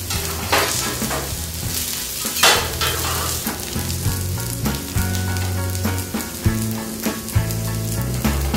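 Zucchini fritters fry in a hot pan with steady, loud sizzling and crackling spatter, a few sharper pops breaking through. No voices are heard.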